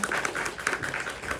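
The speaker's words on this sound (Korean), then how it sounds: "박수 한번 부탁드리도록 하겠습니다" Audience members at a film screening Q&A celebrating a milestone applaud briefly, a quick burst of brisk, close clapping from a modest crowd.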